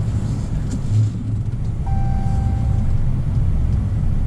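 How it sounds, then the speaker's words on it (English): Chrysler 300 S AWD V6 sedan driving: a steady, moderate engine and road rumble from inside the car, with a brief faint electronic tone partway through. "let's go ahead and take this car for a quick spin"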